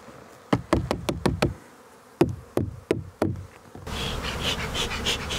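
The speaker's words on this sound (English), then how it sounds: "Now we'll just tip our spare bees back in the box." Spare honeybees are tipped back into a hive box: a run of sharp wooden knocks and thumps in two bursts, then a steady close buzzing hum of bees.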